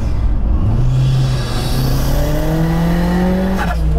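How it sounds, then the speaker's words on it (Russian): Turbocharged Daewoo Matiz of about 200 horsepower accelerating hard, its engine note climbing steadily through the revs with tyre squeal as the car slides, loud and close for a few seconds. "когда нажимаешь на газ, его возит"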